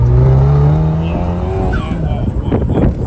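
Opel GT fitted with a big hybrid turbo, a Warner unit, revving loud and close, its engine note rising and falling with turbo whoosh, while voices talk over it.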